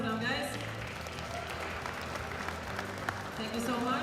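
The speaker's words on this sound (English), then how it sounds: "Big round of applause for them, guys." Audience applauding at a junior powerlifting world championship, a steady wash of clapping held for about four seconds, with a voice talking over it.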